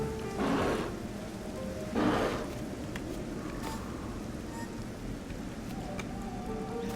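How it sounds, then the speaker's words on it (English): Steady rain patters throughout in the video game Child of Light, with two brief louder splashing bursts early on, over a low background rumble. "Ooh, it's raining."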